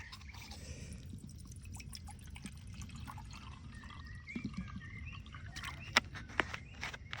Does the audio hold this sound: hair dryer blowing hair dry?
no